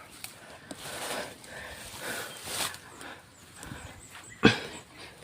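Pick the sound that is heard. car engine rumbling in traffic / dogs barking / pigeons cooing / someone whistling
dogs barking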